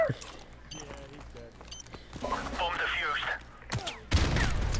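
Rapid gunfire bursts in Call of Duty: Modern Warfare multiplayer, a 1v4 clutch with a Scorpion, crackling over several seconds with a loud volley at the end while players talk excitedly over it.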